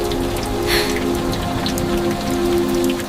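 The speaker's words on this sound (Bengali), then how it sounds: "বৃষ্টি থামবে তো?" Steady rain patters densely on surfaces around a house on a rainy day, a loud continuous wash of drops with no talking over it.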